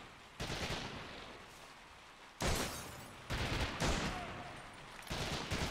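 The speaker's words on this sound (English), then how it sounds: "There's definitely somebody else shooting a lot, though." Long bursts of machine gun fire from the WWII shooter Medal of Honor: European Assault, loud sustained volleys broken by short pauses, several separate rattling bursts in a row.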